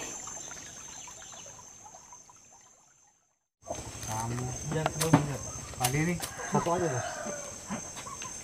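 Chickens cluck and call close by in a durian orchard, several birds overlapping in short bursts after a brief quiet gap, over a steady insect-like hum.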